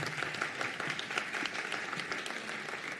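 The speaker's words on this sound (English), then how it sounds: "Clap it up for Renee." A crowd applauds at a nursing school graduation ceremony, brisk continuous clapping from many hands that stays at an even level from start to finish.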